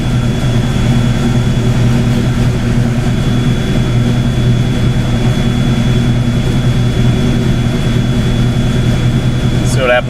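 Ford Fox-body Mustang engine idling with a steady, loud, low droning hum and a constant whine, running unbroken and close throughout.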